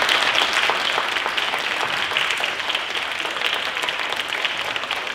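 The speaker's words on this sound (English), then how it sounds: "Can we have a massive, massive round of applause, please, for all of our contestants today?" An audience at a talent show applauds the contestants with steady, dense clapping that continues at an even level throughout, full and close, with no voices.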